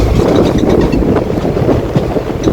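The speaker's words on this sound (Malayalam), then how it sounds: "അങ്ങനെ കുറ്റിപ്പുറം സ്റ്റേഷൻ നമ്മൾ ട്രെയിൻ എടുത്തു കേട്ടോ" Ernakulam–Kannur Intercity Express pulling out of Kuttippuram station, a steady loud low rumble of the train with wind buffeting the microphone throughout, no voices.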